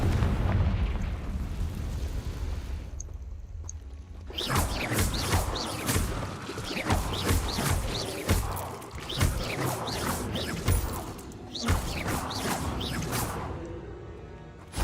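Confringo explosion spells in the Hogwarts Legacy video game, heard as a rapid volley of loud booming blasts and bursts with whooshing impacts that fill most of the stretch after a quieter opening, with no voices.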